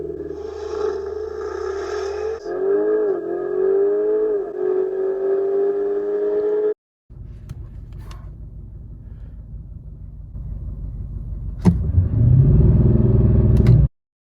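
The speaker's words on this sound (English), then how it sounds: "They're both going to hold at 2500, and when they launch, the Lamborghini feels a lot more aggressive because of the transmission." A Lamborghini Urus and an Audi SQ8 hold at 2500 rpm and then launch. A steady engine hum rises and shifts, cuts off abruptly, then a rough rumbling roar builds louder with a few sharp clicks near the end.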